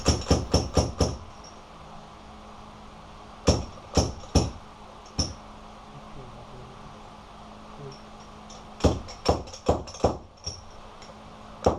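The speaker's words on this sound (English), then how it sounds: "are used as a slide hammer to drive the fork seal into position on the outer tube" Metal slide hammer knocks a fork seal into the outer tube of a Suzuki GSXR front fork, sharp clinks in quick bursts of four or five, then pairs and a final cluster, close and crisp over quiet shop hum.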